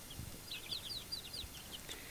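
Basilan chicken chicks peep with soft, high chirps scattered through the clip, faint and a little distant over a quiet background hiss.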